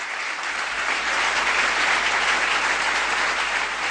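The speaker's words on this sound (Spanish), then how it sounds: "Estos aplausos son para Virgen María y para Dios, no para mí" Continuous, dense applause from a church audience following a testimony fills the space, loud and even from start to finish with no talking.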